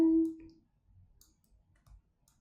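A few computer mouse clicks during Photoshop editing, faint and close, spaced irregularly after a brief tonal sound at the start, with no speech.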